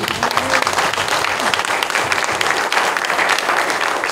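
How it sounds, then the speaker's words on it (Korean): A church congregation gathered for a new sanctuary dedication service claps loudly and steadily, dense applause filling the room for the whole stretch. "우리가 여호와 하나님께 영광의 박수 한번 드립니다."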